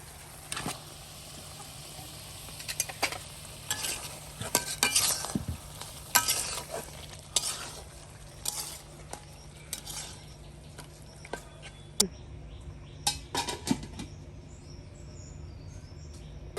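Fish head frying in oil in a pan, stirred now and then, while a Bengali kochu shak dish is being cooked; a low steady sizzle runs throughout under repeated scraping and clinking of a utensil against the pan, with no talking.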